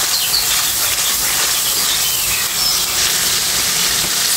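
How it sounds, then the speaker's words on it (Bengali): Hot water poured into sizzling spiced oil masala in a pan for jackfruit kofta curry gives a loud, steady steamy hiss and crackle that continues for several seconds. "এই পর্যায়ে দিয়ে দেবো গরম জল।"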